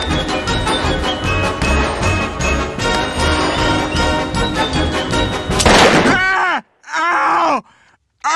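A cartoon breakfast machine firing gunfire, a dense rapid burst of loud shots with groaning voices mixed in, then a few separate blasts and gasps toward the end.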